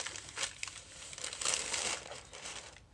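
Packing paper being handled and cut, with close, crisp crinkling and rustling in uneven bursts, fairly quiet, with no talking.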